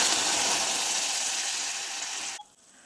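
Sizzling burst as water hits melting sugar in a pan for caramel, a loud bright hiss that steadily fades over a couple of seconds, then cuts off.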